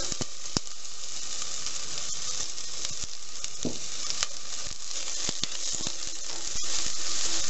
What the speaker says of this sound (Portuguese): refogar a nossa cebola